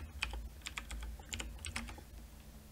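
Quick, close keystrokes on a computer keyboard while entering a search in a web browser, an uneven burst of clicky taps over a low steady hum.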